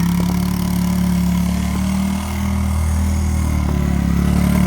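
A 1985.5 Yamaha Tri-Z 250 three-wheeler spinning donuts on packed snow, its engine droning steadily at mid pitch with a brief dip in revs, loud and close.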